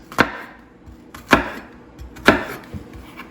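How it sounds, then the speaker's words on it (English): Three sharp knife strikes on a cutting board while slicing an onion lengthwise, spaced about a second apart, close and crisp, with a faint fourth tap at the end. "we're going to create these slits right here, long ways,"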